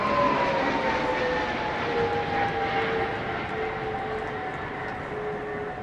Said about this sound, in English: Our Voyager, operated by 10 and 101 squadrons based at Royal Air Force Bryce Norton, is primarily used for both air-to-air refuelling and strategic air transport